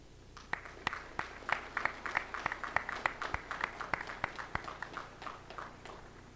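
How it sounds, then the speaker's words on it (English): Sparse, quiet clapping from a few hands at a Navy Officer Candidate School graduation, with individual sharp claps spread unevenly across several seconds. "please join me in a round of applause to thank yours for the support"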